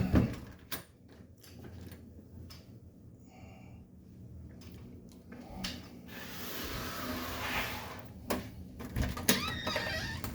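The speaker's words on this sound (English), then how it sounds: "and we open the door" A door opened from indoors to the outside, with a few soft clicks and knocks of the latch and handle over a quiet room tone, then scattered handling thumps.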